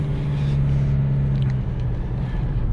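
Steady, loud low-frequency cabin drone and road rumble inside an Isuzu D-Max pickup truck driving through town, a constant engine and tyre hum without speech.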